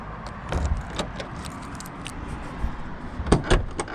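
Car keys jangle in several quick, close bursts of metallic rattling around a car, strongest near the end, with no voices.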